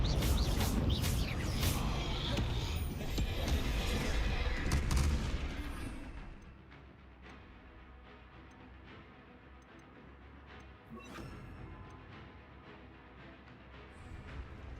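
Spell-casting effects from the video game Hogwarts Legacy: loud, dense bursts of blasts and crackling impacts fill the first five seconds, then drop to a quieter stretch with scattered sharp hits and a brief flare near eleven seconds.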